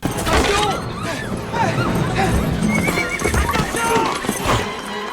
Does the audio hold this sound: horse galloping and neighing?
yes